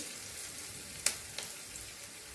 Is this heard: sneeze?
no